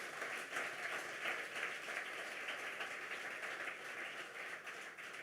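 A church congregation claps and cheers in praise of Jesus, a steady, dense wash of applause holding at an even level throughout with no voices standing out.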